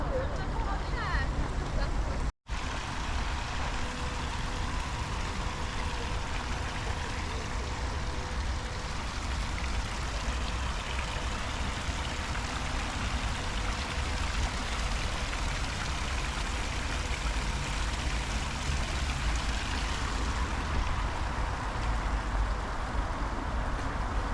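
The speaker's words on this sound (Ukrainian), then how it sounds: "вся вода десь тече зверху" Continuous rushing water flows loudly and steadily over a surface in a rooftop park above a library in Warsaw, a dense broadband wash with no clear voices above it.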